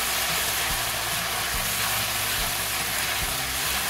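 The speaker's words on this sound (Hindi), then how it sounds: "अदरक लहसुन को इसका कच्चापन दूर होने तक भूनेंगे।" Ginger garlic paste with garam masala frying in a pan for mutton keema kaleji, a loud, continuous sizzle with faint low knocks from stirring throughout.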